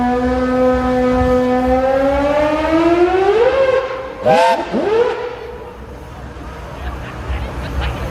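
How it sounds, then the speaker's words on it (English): Several steam engine whistles blow together at an outdoor steam rally, a long sustained tone that bends and wavers, then breaks into short sliding blasts before fading into background noise. "Has everyone got enough steam to blow the whistle again?"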